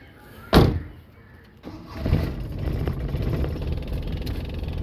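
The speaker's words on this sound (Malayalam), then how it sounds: "ഇതാണ് ആ ഒരു എൻജിൻ നോട്ട് വരുന്നത്" A Maruti 800 car engine cranks with a sharp burst, catches and settles into a steady, fairly loud idle close by, a double horn having been fitted to the car.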